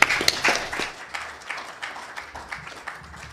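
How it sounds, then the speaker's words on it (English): A conference audience gives brief applause for panelists after a hybrid TV discussion, scattered claps that fade to sparse, softer hand claps over a few seconds. "please give a big round of applause to our panelists"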